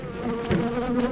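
Dense, continuous buzzing of many honeybees close by during a hive inspection after a swarm, a steady drone filling the whole moment with no talk.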